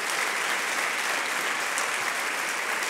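A church congregation applauds steadily and loudly throughout, a dense continuous wash of clapping with no voices rising above it.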